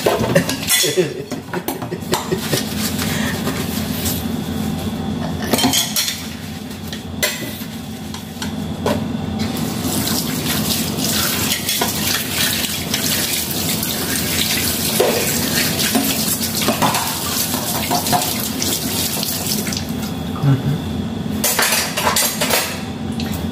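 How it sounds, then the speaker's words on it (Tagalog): Dishes and cutlery clatter in a sink under a steady running tap, with continuous water noise and occasional clinks throughout, fairly close and loud, faint talk now and then. "mayroon pa pala hugasan dito. Hugasan ko pa saglit."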